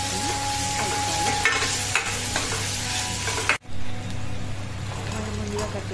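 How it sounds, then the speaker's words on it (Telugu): Onions with ginger garlic paste sizzle steadily in a pan while a spoon scrapes and stirs, close and loud, with a few sharper clanks against the pan. "ఆనియన్స్ కొంచెం కాస్త కలర్ చేంజ్ అయిపోయాక అల్లం వెల్లుల్లి పేస్ట్ వేసుకొని కలుపుకోవాలి"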